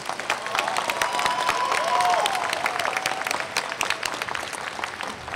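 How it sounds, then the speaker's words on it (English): Audience applause at a university chemistry and biochemistry commencement ceremony: sustained, crisp clapping from a large crowd, swelling slightly midway, with faint cheers and murmuring voices mixed in. "Let's give them a big round of applause."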